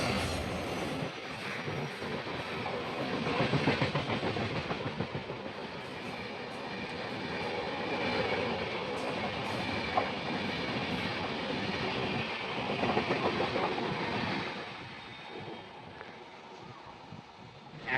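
A through express train passes a halted train on a Karnataka line near Sakleshpur and Subramanya Road, a continuous rumbling clatter of wagons rolling by, steady and moderately close for the whole stretch.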